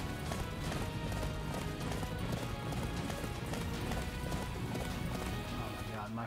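Horse hooves gallop in a steady, continuous rhythm in the Attack on Titan video game, heard under a dense, loud wash of game sound throughout.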